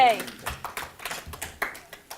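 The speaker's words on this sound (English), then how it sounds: "I like the tentacle clap." A convention audience at Ichiban Con 2013 performs a tentacle clap, a run of quick, light, irregular taps and claps spaced through the moment, fairly close and crisp, with a brief voice at the start.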